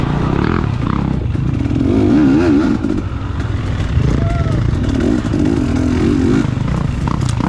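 A 2019 KTM 250XC two-stroke dirt bike races offroad in a Swamp Rat GP event, its engine loud and close throughout with shifting revs and rasping bursts, clattering and scraping mixed in.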